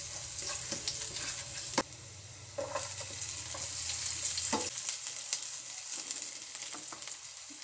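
Close, steady sizzling and crackling of mixed vegetables with sardines frying in a pan, with occasional sharp pops and light stirring scrapes.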